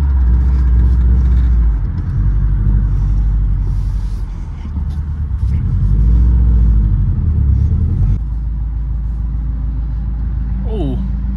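A big-turbo Subaru WRX pulling hard through the gears, deep loud engine rumble rising in pitch with each pull and dropping between shifts, heard from inside the car.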